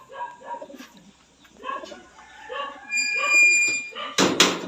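Pigeons coo in soft, repeated throaty phrases from nearby, several birds overlapping, ending in a brief burst of fluttering or clatter.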